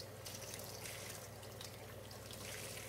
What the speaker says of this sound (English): I always do this under running cold water.